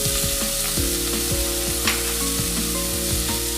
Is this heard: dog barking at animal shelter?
no